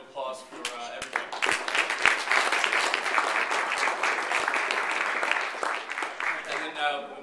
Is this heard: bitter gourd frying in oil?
no